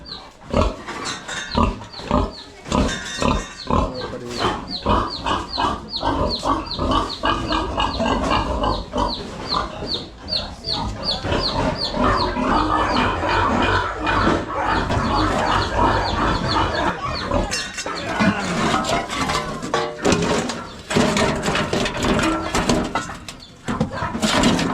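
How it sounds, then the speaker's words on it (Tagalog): Pigs raised at a garbage dump oink and grunt loudly and continuously, close by. Clucking chickens and other birds are mixed in, and nobody talks. "Dami palang baboy dito eh."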